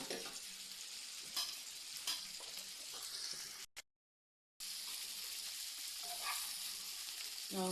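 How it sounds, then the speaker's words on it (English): Egg frittata mixture with turmeric and spices is stirred in a bowl, giving a steady close scraping, swishing texture that runs for several seconds, then breaks off briefly in a short silence before resuming. "Now I'm just mixing so that the spices and the ingredients are all blended"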